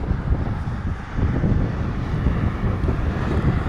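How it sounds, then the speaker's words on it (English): Strong outdoor wind buffeting a camcorder's built-in microphone, a loud continuous low rumble that swells after the first second and stays heavy to the end, with no voices. "It's pretty windy out today."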